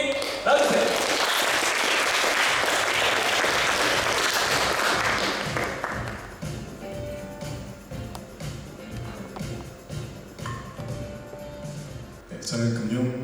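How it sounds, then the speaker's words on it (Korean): An audience gives a loud, dense round of applause to welcome a finance creator onto the stage at a youth leaders' festival, tapering off after about six seconds into scattered claps and speech. "큰 박수로 모셔보도록 하겠습니다"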